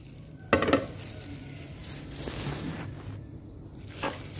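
Vegetables being tossed and stirred with oil in a bowl, a wet clattering scrape starting sharply then continuing as softer rustling, close and fairly quiet with a brief knock near the end.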